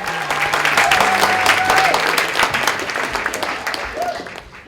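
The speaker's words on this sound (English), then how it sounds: "Parnell Diggs returns to his seat amidst huge applause" Large seminar audience applauding loudly and steadily, a dense wash of clapping with crowd noise and some voices mixed in, gradually tapering toward the end.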